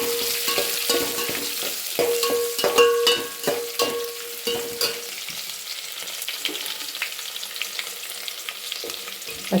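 Onions sputter in hot oil in a pan with a dense crackle, accompanied by repeated sharp stirring clatters that gradually thin out to a quieter sizzle. No one speaks.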